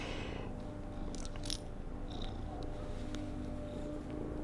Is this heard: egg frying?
no